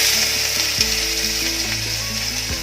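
Carrots fry in a pan for chilli chicken, giving a dense continuous sizzle close up over a steady low hum, with faint occasional stirring scrapes.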